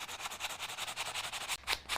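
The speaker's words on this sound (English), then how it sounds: "you may just want to come back in here with a sanding block and just" A sanding block rubbed back and forth over dried glue on a Cricut craft project, giving a steady run of rhythmic scratchy strokes, close and fairly loud, with a brief pause and a couple of harder passes at the end.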